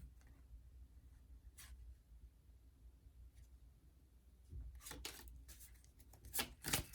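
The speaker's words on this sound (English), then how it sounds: "Sloppy shuffling." Tarot cards shuffled sloppily: soft riffling and slapping bursts, quiet at first with a few faint flicks, then a cluster of louder crisp card slaps and rustles near the end, with no voices.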